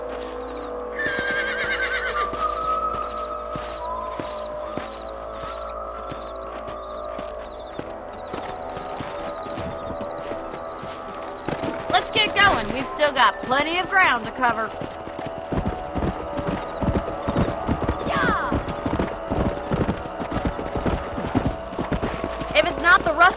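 Horses in the Western video game Red Dead Redemption clip-clop along at a steady pace with an occasional whinny, while a character speaks over the hoofbeats and game music plays underneath.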